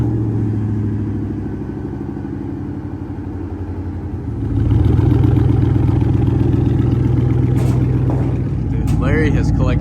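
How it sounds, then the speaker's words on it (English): A pickup truck engine cold-started after sitting two weeks, cranking briefly before catching into a loud, rough, rumbling idle that stays close and steady, with a voice talking over it. "let's get a 2-week cold start"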